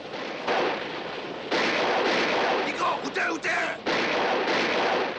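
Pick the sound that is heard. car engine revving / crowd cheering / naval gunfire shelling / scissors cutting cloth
naval gunfire shelling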